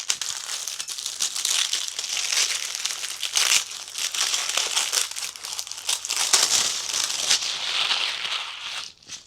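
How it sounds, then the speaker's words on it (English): Protective paper peeled off the fretboard of a Donner DTL100 electric guitar, heard as close, continuous crinkling and crackling. The sound carries on unbroken for several seconds, with no talking over it. "Let me get this paper off of the fretboard."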